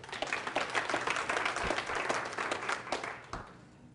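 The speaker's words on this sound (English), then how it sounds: "Round of applause." A live seminar audience gives a round of applause, many hands clapping in a dense, even patter that fades toward the end, fairly faint and distant.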